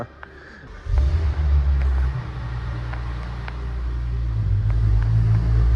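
A Porsche 997 engine starts in a parking garage, a starter-driven catch followed by a deep, loud idle rumble that swells slightly as it settles, echoing in the enclosed space.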